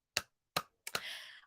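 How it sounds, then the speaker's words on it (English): A few sharp hand claps, two separate strikes then a quicker double, close and fairly quiet, followed by a brief hiss of room noise. "I'm clapping"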